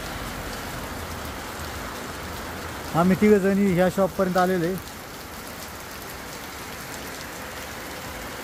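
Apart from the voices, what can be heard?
rain falling in the street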